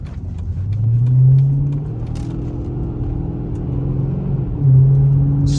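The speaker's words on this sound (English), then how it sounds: "just the raw, visceral noise of the vehicle is fantastic" A 2007 Chrysler 300C SRT8 rumbles steadily from inside the cabin while driving slowly, its low engine note swelling once early on and again near the end as it picks up, with no talking.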